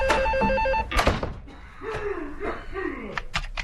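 A telephone rings in short repeated electronic trills indoors, followed by a door clunk and people talking.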